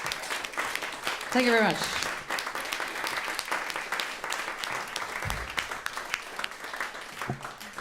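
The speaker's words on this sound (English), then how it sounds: "Another round of applause for Slanty Eyed Mama." Audience applause at a live comedy show, moderate and steady, with a voice speaking briefly over the clapping near the start and a few thumps later.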